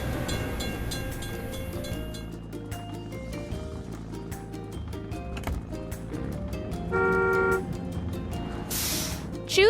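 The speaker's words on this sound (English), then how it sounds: "We have to wait for the train to pass." A video game train passes a level crossing in a chiming, electronic stream of bell-like tones and toots, with a horn blast near the end and a crossing signal ringing throughout.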